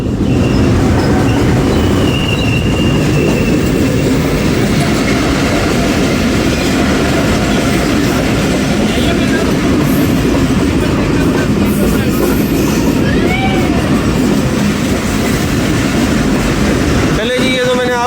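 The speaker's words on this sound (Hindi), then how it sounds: "ये सामने से आ रही है 101 अप रेल कार" A 101 Up rail car in Pakistan passes close by with a loud, steady rumble and clatter of wheels on track, a brief squeal near the end.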